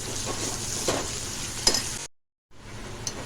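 Spice masala with red chilli powder sizzling and being stirred in a pan, a steady close frying hiss with scraping stirs, broken by a brief silence before the sizzle resumes.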